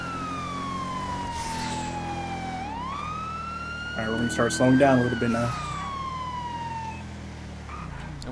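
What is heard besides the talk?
police car siren in a roleplay video game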